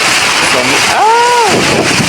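Loud, roaring wind buffets the microphone in a continuous rush, with a brief voice exclaiming partway through.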